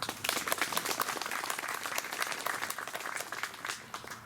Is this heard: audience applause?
yes